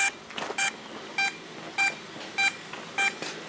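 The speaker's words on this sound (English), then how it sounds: "See if I can figure out what that beeping is." A DJI Mavic Mini drone signalling an error with short, evenly spaced electronic beeps, about six in a regular rhythm, clear and close over a faint background hum.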